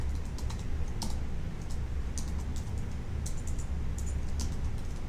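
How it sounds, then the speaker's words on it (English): Quick, irregular keystrokes on a computer keyboard, close and fairly quiet, pattering continuously with no voices over them. "So I'm just going to type"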